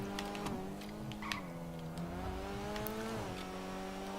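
The Vapid GB200 engine in GTA Online accelerates with a steady, rising whine that climbs through the gears with brief dips at each shift. It stays continuous and moderately loud, with no talk over it.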